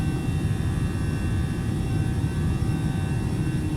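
Airbus A319 jet engines spool at high thrust on the takeoff roll in Microsoft Flight Simulator, a steady loud roar with a broad rumble and faint high whine, continuous without a break.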